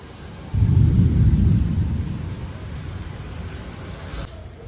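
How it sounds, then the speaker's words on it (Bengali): Thunder rolls during an evening rainstorm, a deep, loud rumble that swells suddenly and fades slowly over a couple of seconds above the steady patter of rain, with no voices. "মেঘ গুড়গুড় করছে।"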